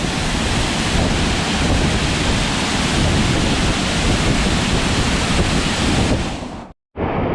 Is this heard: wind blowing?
yes